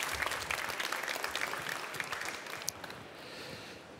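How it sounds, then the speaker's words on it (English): Audience at a Formnext Pitchnext young innovators event applauds a presenter, dense but fairly distant clapping that fades slightly as it continues. "Big applause for you again."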